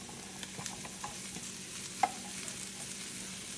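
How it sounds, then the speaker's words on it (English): Mushrooms sizzle in a frying pan with a soft, steady crackle, a faint click partway through, fairly quiet and with no talking. "We'll add the mushrooms right to the pan."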